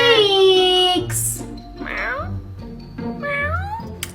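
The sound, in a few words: cat meowing in a kennel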